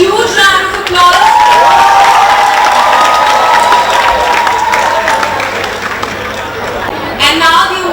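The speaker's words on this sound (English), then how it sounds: "Students, can we give these teachers a huge round of applause?" Students at a school event applaud their teachers with sustained, loud clapping and some cheering from a large crowd, mixed with background voices and chatter throughout.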